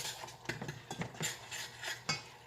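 A spoon stirs candied yam mixture with vanilla in a pan, making a run of quiet, close, irregular scrapes and clinks of metal against the pan.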